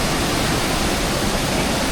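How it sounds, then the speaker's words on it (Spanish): A swollen river in the Peruvian jungle rushes past close by, a steady loud broadband roar of churning water with no letup and no voices. "demasiado crecido, baja agua por todos lados"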